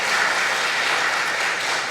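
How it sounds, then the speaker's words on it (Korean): A church congregation at a Wednesday worship service breaks into steady, dense applause, many hands clapping together close and loud without pause, with no talk over it. "박수 한번 하십시다"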